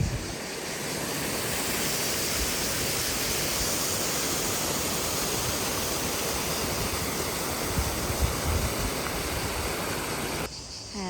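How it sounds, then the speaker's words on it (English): A waterfall pours down into a spa pool at a terrace in Sommières, France, a loud, constant broadband rush of falling water that continues unbroken from start to finish. "that's just where the waterfall is going down to the spa pool down there"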